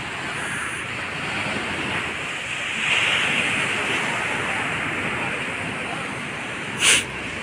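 Sea waves wash along a calm beach, a broad steady surf roar blended with wind buffeting the microphone, with a brief louder bump near the end.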